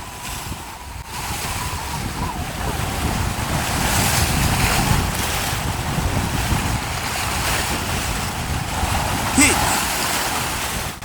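Wind blows steadily over surf at a seaside fishing spot on Jeju Island, a broad rushing wash of waves and wind noise that persists through the whole stretch, with no talk.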